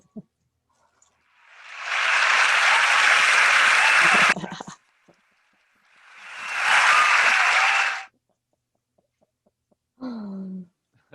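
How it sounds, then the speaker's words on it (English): Two rounds of audience applause follow a poetry reading at KGB's Monday Night Poetry, each swelling up and cutting off after a few seconds with a quiet gap between, then a short voice at the end. "Thank you for the applause."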